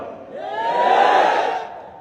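A large crowd at a religious gathering where a Deobandi scholar is speaking raises a loud, sustained collective shout that swells and fades over about two seconds, with no speech heard.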